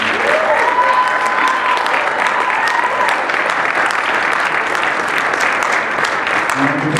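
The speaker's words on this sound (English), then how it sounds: "Let's give a round of applause to both of our candidates for coming out tonight." Audience at a student government presidential debate applauds the candidates, a loud, continuous wash of clapping from a room full of people that holds steady the whole time.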